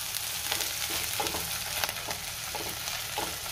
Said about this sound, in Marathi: आलं लसणाची पेस्ट घातल्यावर सुद्धा मी 1 मिनिटभर परतून घेणार आहे